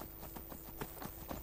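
Horse hooves clip-clop at a quick, even trot in the video game Skyrim, a soft, fairly quiet run of hoofbeats with no talking.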